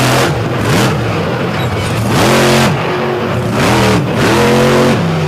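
Heavy pulling-truck engine at a truck pull in northwestern Pennsylvania revs hard in repeated rising and falling surges, loud and close, with a broad roar between throttle bursts.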